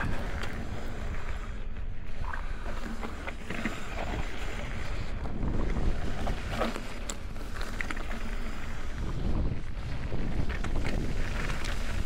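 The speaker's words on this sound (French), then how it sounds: "Attention le vent." Gusty storm wind buffeting the microphone outdoors, a continuous rough roar with surges, loud and close, with no talking.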